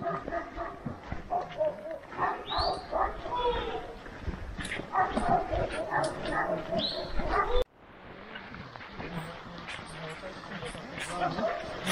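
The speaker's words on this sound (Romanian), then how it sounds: "S-aud câini aici." Shepherd dogs bark and yip at a sheepfold in Bertea, Prahova County, where a flock of sheep is kept. The repeated barks carry from a distance beneath a person talking and moving over hilly ground.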